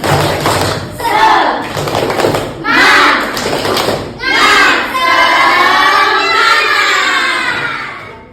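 A group of children claps in a rhythmic pattern, several bursts of hand claps mixed with shouted chanting, loud and close.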